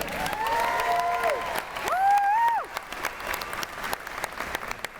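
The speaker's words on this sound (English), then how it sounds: "Round of applause for Howl-O-Scream" An audience at a Busch Gardens Williamsburg Howl-O-Scream announcement event claps and cheers, with whoops rising over a busy wash of applause that thins into scattered claps toward the end.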